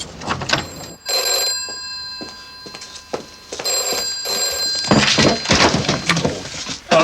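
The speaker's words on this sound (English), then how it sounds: "The phone's ringing." A telephone bell rings in repeated bursts with short silent gaps between them, fairly loud and close indoors.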